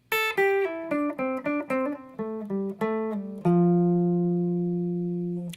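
Clean guitar plays a short phrase from a guitar solo, a quick string of distinct picked notes descending in pitch, closing on a long sustained note that rings out and slowly fades, with no talking.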